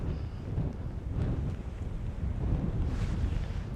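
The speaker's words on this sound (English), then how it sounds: "we're gonna worry about a lot of wind shake because it's very windy right now." Strong gusting wind buffeting the microphone outdoors during a storm, a continuous loud rushing roar with no speech.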